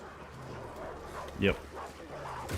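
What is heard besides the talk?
dogs barking in the video game Path of Exile 2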